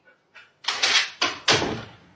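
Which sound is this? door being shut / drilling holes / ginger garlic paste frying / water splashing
door being shut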